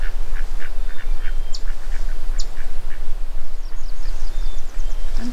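Ducks quack over and over at a pond, in short, fairly close calls against a steady low rumble of wind or water.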